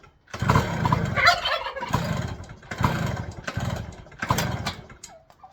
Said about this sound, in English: my turkeys are in the background.